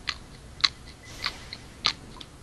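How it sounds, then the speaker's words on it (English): Someone chews on a paper-faced fridge magnet, giving a few sharp, close clicking bites spaced irregularly over quiet background. "I'm chewing on a magnet."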